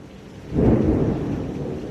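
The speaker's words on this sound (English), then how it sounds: "Yeah, I love thunderstorms." Thunder from a thunderstorm rolls in as a deep, swelling rumble that slowly fades, over steady falling rain, somewhat distant and with no talking.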